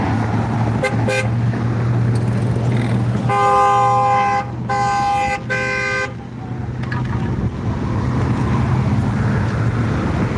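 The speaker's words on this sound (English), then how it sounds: "I thought this lady was honking at me." A car horn honks in traffic, a couple of quick taps and then two longer blasts, loud and close over a steady rumble of road and engine noise.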